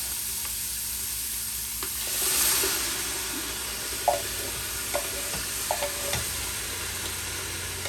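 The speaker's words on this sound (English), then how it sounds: "Now, stir it up real good and get our tomato sauce in." Quinoa and beans chili simmering in a pot as tomato sauce is stirred in, a steady low sizzle and hiss with a handful of soft spoon knocks and scrapes, no talking.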